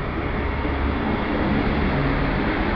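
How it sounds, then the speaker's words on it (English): A Great Western Railway service departing Plymouth station for Penzance, a loud, steady, continuous rumble and roar filling the platform without letup. "departing now is the 1546 Great Western Railway service"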